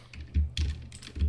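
Keystrokes on a computer keyboard while entering Python OpenGL code, a few quick clustered taps in short bursts, close and moderately soft, with no talking.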